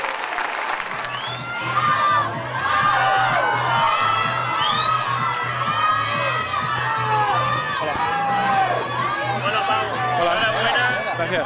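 A crowd gives a final ovation for basketball player Pau Gasol in Sant Boi, with sustained cheering, whoops and children shouting over steady applause, while a low hum and an amplified voice carry beneath the noise.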